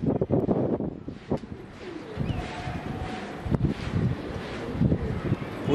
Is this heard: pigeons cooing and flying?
yes